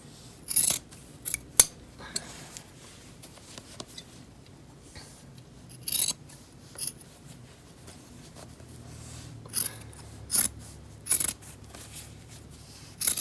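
Scissors snip through the collar of a plaid flannel shirt, cutting it off right at the neck in a series of sharp, close crunching cuts spaced irregularly, with quiet pauses between them.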